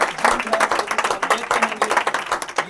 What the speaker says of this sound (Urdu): ہم تالیوں کے ساتھ اپنی خوشی کا اظہار کریں گے.